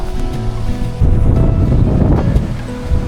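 Strong wind buffets the microphone in a loud, steady rumble, with a washing water-like roar beneath and no voices.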